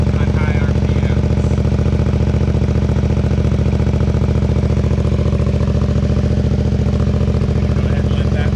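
A motorcycle engine idles steadily with a decibel killer fitted in the exhaust, a loud, close, even throb with a mechanical clatter on top that holds constant throughout.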